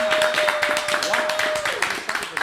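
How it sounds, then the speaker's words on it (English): An audience on a dating show claps steadily throughout, a dense patter of hands with a sustained tone running beneath, fairly loud and close. "Clap it up one more time for them"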